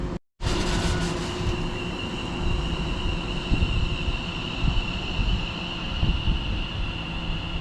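A Greater Anglia Class 720 electric train passes close by with a steady, loud rolling roar and a sustained high whine, carrying on throughout.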